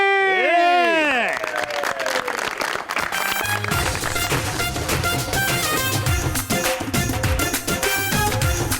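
A TV studio audience on a cricket talk show breaks into loud, sustained clapping and cheering as a guest is welcomed, with a bright musical sting at the start and lively music running beneath the applause.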